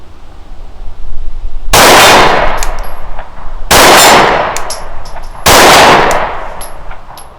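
Three loud, sharp pistol shots from a Rost Martin RM1C at an outdoor range, each followed by a ringing metallic clang from a steel gong target, spaced about two seconds apart with long decaying rings.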